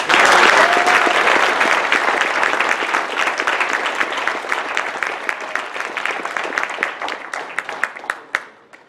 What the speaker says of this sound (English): big round of applause for Don.